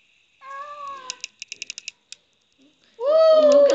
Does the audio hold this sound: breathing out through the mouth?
no